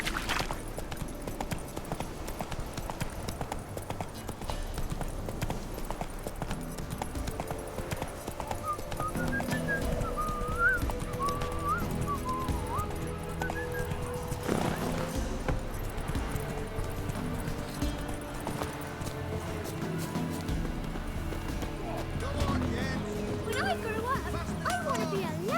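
Hoofbeats of Geralt's horse Roach in the video game The Witcher 3, a steady clip-clop trotting under ongoing conversation, with game music and ambient sounds behind.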